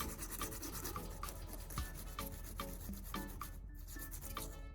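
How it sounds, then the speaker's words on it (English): Sandpaper rubs back and forth over the rough, freshly filed edges of a homemade metal key blank, a steady close scratchy rasp with repeated strokes and no talking. "After creating the teeth, use sandpaper to smooth all sharp edges and burrs."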